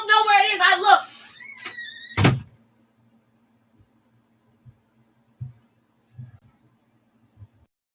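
A person screams loudly in short, high, strained bursts mixed with shouting, then a heavy thunk like a door, followed by quiet with a few faint knocks and bumps.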